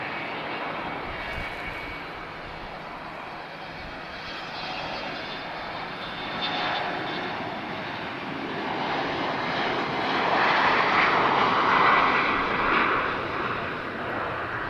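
An airliner takes off at Lisbon Airport, a steady broad engine roar that swells gradually as the plane climbs away, with no talk over it.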